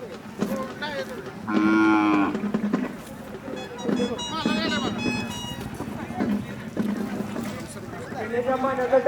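Several loud, drawn-out moos from Khillar cattle, including a black bull, ring out one after another, close by at an agricultural fair, with people talking in between and underneath.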